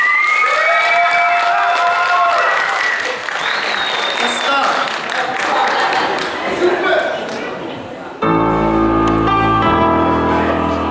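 An audience at a song contest in Hisar applauds a young performer with dense, steady clapping that swells and dips for several seconds before music abruptly cuts in.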